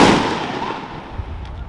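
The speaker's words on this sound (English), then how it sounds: "Fireworks." Fireworks going off outdoors around July 5th, a loud burst at the start that fades into a long, crackling, hissing decay with faint distant pops.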